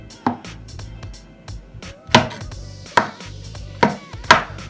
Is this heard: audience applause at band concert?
no